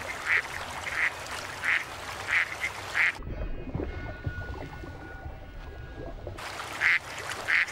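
Ducks quack in a steady series nearby, then the sound turns to a muffled underwater rumble before the quacking returns.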